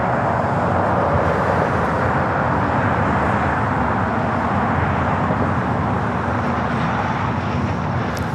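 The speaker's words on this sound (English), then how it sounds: "Doing that Atomic Cargo, the converted 767-300ER headed to Seattle, flight 2525 lighting up." A converted Atomic Cargo Boeing 767-300ER freighter takes off from LAX, a loud, steady broadband jet roar holding constant throughout with no talk over it.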